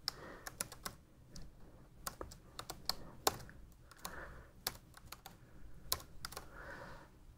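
Quiet typing on a computer keyboard, with irregular bursts of sharp key clicks, some spaced apart and some in quick clusters, heard alone at low volume.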